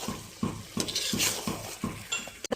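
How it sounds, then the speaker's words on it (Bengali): Chicken with salt, turmeric, ginger and garlic paste being stirred in a pot, a regular rhythm of about six spoon scrapes and clinks against the metal over a faint sizzle. "এবার আমি ভালো করে নাড়িয়ে নেব।"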